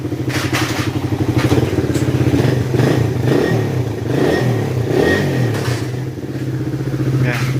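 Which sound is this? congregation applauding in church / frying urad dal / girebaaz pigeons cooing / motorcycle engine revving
motorcycle engine revving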